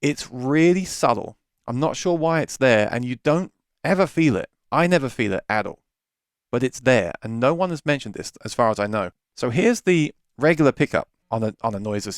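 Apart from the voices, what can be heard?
No everyday noises stand out.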